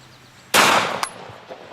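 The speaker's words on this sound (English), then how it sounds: "I'm going to shoot the remaining bone that's standing up" A single loud, close gunshot of RIP G2 ammunition fired outdoors at a standing bone target, a sharp crack with a decaying tail and a brief clank just after.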